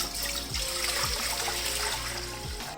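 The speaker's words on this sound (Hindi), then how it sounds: "इसमें तकरीबन 8 गिलास के जितना मैं पानी डाल दूँगी" Water pouring from a glass into a kadhai in a home kitchen, a continuous splashing trickle with a few distinct glugging pours, close and fairly loud, with no talk.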